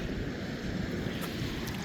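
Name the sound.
sea waves lapping and crashing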